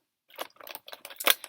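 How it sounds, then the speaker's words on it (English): Scissors snipping through paper while a craft piece is trimmed out, a quick run of close, crisp cuts that ends in one sharper, louder snip, with no voices. "then I'm going to take my scissors"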